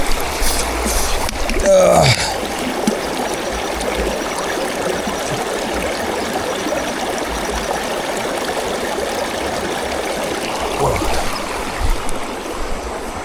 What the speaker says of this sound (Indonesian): Gerimis halus.